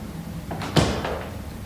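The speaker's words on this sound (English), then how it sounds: "Okay, let me shut the door." A door swings shut with a single solid thud, close by, in a quiet room with low background hum.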